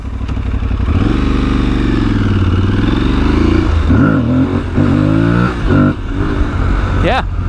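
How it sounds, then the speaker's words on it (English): Tuareg 660 motorcycle engine revving hard and climbing through first gear on a twisty road, loud and close throughout, with pitch rising and dipping as the throttle is worked and a brief sharp rise at the end. "maybe a little first gear wheelie."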